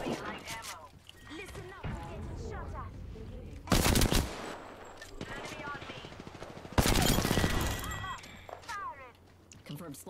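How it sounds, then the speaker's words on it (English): Bursts of automatic gunfire ring out in the video game Apex Legends, with two loud sustained volleys breaking through frequent in-game voice lines and callouts. "Getting shot at."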